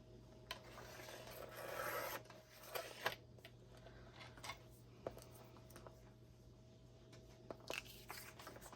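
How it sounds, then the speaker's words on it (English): Quiet, close rasping and rubbing as scissors or a trimmer cut paper for a small pocket in a junk journal, with soft intermittent snips and rustles over a faint steady hum. "So let's trim a little off the bottom."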